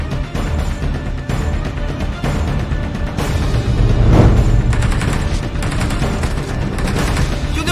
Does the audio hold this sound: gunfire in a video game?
yes